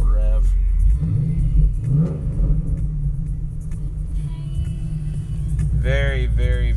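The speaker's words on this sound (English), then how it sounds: "Give it a little rev." A 2009 Chevrolet Corvette with a six-speed manual and aftermarket upgrades rumbles at idle, then is revved in short bursts, with a deep throaty note close by and a rising blip near the end.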